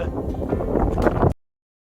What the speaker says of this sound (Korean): 바람이 불어 날씨가 쌀쌀합니다.